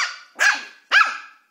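A two-month-old Maltese puppy gives two sharp, high yaps about half a second apart, close and fairly loud, with no voices over them.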